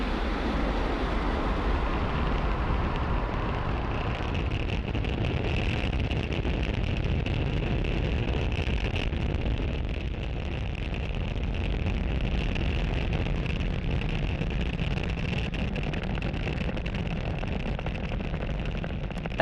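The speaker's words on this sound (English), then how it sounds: "Falcon 9 has successfully lifted off from pad 40" SpaceX Falcon 9 rocket lifting off from pad 40 carrying the Indonesian PSN SATRIA communication satellite: a continuous broad roar, loud and steady throughout, with no speech.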